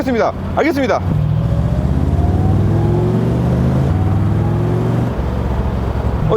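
A 60-year-old classic car pulls away and accelerates along a busy city boulevard, its engine droning steadily and rising in pitch through the gears, loud and close from inside the cabin, with brief voices at the very start.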